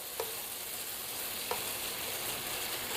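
Food browning in a frying pan gives a steady, even sizzle at moderate volume, with a couple of faint clicks or stirs, and no one talks.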